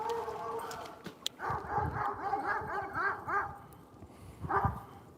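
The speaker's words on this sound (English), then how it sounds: "Those might be the dogs I saw earlier." Several dogs barking near a house in South Carolina, a quick run of repeated barks followed by a pause and another short burst, fairly close.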